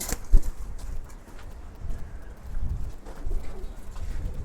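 Silver pigeons handled near a loft make low soft cooing and shuffling, with a sharp knock near the start and scattered bumps and rustles, close and fairly loud, no talking.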